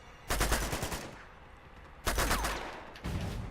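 Gunfire in the video game Uncharted 2 during a street fight: loud, dense bursts of rapid shots, one long volley, a pause, then two more bursts.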